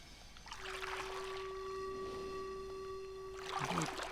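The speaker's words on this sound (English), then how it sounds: "hollow wind sound. Plus waves, maybe?" Hollow, steady wind ambience with faint wave wash from the Myst video game, a sustained droning tone running through it and the noise swelling slightly at the start and end.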